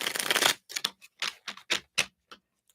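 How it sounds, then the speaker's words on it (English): Tarot cards riffle and flutter in a close shuffle, a dense papery burst followed by a string of short crisp snaps and taps that thin out and fade. "Let's shuffle up here."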